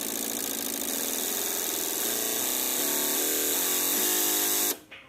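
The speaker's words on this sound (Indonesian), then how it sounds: "Ini RPM akan saya naikkan ya. RPM akan saya naikkan, perhatikan untuk aktual ISC nya." A Kia Picanto engine runs steadily and its revs climb in stepped rises as the RPM is raised, a loud continuous mechanical whine building over several seconds before cutting off sharply at the end.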